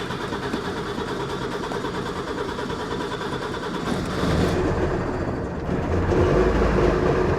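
Small two-stroke engine with choke and throttle, running with a steady rough idle that swells louder in the last few seconds as it revs a little, close by and with no talk over it.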